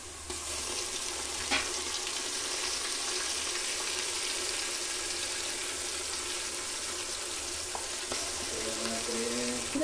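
Ginger, coriander and garlic paste frying and being stirred in a pan for masala rice, a steady close sizzle with constant hiss and occasional scrapes of the spoon, no talk.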